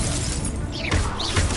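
Confringo blasting curse firing in a Harry Potter video game: a brief loud crackling burst with a shattering, explosive edge over continuous game noise.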